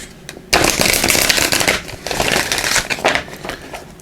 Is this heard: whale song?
no